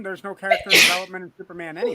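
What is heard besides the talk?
sneeze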